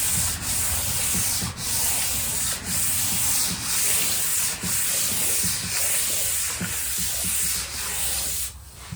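Brown paper bag material rubbed lightly over a polyurethane finish, giving a steady soft scratchy rasp in repeated back-and-forth strokes, close and alone.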